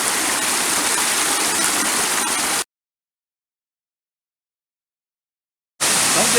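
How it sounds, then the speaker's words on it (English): Merriman Falls in Olympic National Park roars as a steady, loud rush of falling water, broken by a few seconds of total silence before the roar returns. "Get the waterfall. That's Merriman Falls here in Olympic National Park."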